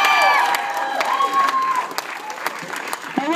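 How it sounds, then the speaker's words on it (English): A crowd at a Los Angeles March Against Monsanto rally claps and cheers, loud dense applause at first that thins out with scattered claps, a voice carrying over it. "Give her a round of applause, everybody."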